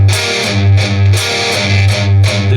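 Distorted electric guitar chugs a palm-muted open A glam metal riff, loud and close, with repeated tight low-string hits and brighter accented notes in a driving rhythm.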